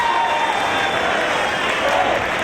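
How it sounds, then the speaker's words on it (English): A wrestling arena crowd roars in a dense, continuous wash of voices and cheering at a professional wrestling event, loud and steady throughout, with no distinct counting beats standing out. "Crowd counting along."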